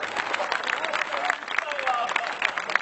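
Audience applause at a Hindi poetry recital, fairly soft and a bit distant, with scattered clapping mixed with crowd murmur and some voices over a short stretch.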